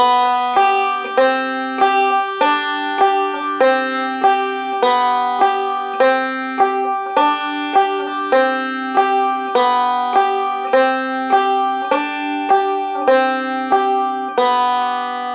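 A banjo picks a steady, repeating pattern of bright plucked notes, each one sharp and quickly decaying, played alone at an even tempo.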